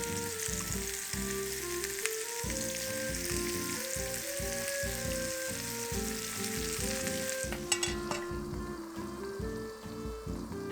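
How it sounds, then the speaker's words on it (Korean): Tofu braising in doenjang sauce in a covered pan over low heat, giving a steady, close sizzle and bubbling that runs continuously through the clip with no talk. "약한 불에서 뚜껑 덮고 졸여줄게요"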